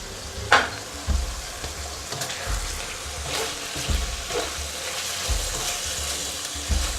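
Marinated chicken pieces sizzle and fry in a pan while being stirred, giving a continuous close crackle with periodic scraping thumps and splashes.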